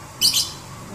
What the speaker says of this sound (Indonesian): Kali ini nge-review burung lakbet.